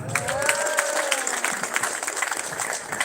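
Loud, lively clapping from an audience at a vocational school competition award ceremony in South Sumatra fills the whole moment, with a voice briefly heard underneath.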